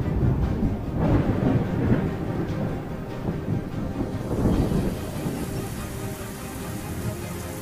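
A late monsoon deluge pours down on dry fields in India, with heavy rain hissing steadily and low thunder rumbling through the first half before easing into a softer, even downpour.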